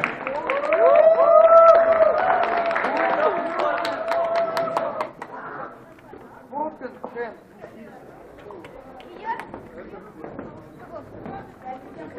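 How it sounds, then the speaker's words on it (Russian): Audience applause for Rubik's cube solver Dmitry Korolev at the HSE Open 2018 3x3 final: a dense, loud burst of clapping for the first few seconds, then fading to scattered, quieter crowd noise with voices. "Давайте его поддержим аплодисментами."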